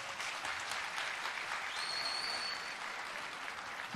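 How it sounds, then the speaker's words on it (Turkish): Fairly quiet, continuous audience applause on a televised Popstar singing competition, clapping in encouragement for the contestants, an even wash of hands with a brief high whistle-like tone partway through. "Yok mu bir moral alkışı hepsine?"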